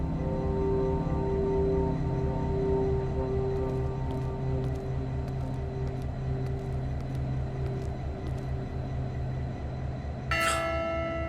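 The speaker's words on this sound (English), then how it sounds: "The bell clapper. Now I can fix it." A church bell in a video game rings with a sustained, resonant tone after its clapper is repaired, holding a steady hum and ending in a bright new strike near the close.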